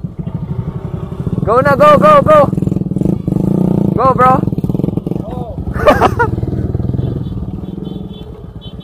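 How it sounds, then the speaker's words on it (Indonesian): Racing tricycle motorbikes rev and ride off on a dirt track in Negros Occidental, engines droning loud and close under excited shouting voices, with a motor rising sharply near the end. "Nandun na ulit yung racing tricycle namin."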